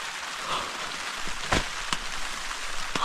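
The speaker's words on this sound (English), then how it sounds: "I was hoping this rain lets up" Rain falling on a campsite on Shortoff Mountain, a steady broadband patter with a few sharper nearby drops striking a surface, fairly close and continuous with no voices.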